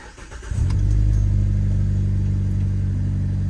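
A Mazda 3 engine cranks and catches after a rear motor mount replacement, then settles into a loud, steady, smooth idle rumble that holds for the rest of the clip.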